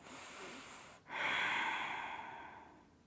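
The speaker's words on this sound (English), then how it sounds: "Breathing." Slow, close breathing during a gentle stretching and meditation session: a soft inhale, a brief pause, then a long, steady airy exhale that gradually fades, with no talking.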